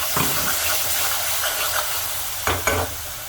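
Ground tomato poured into a pan of frying spices, bursting into a steady close sizzle and hiss with stirring, and two sharper spurts of frying near the end.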